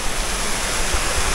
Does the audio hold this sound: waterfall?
yes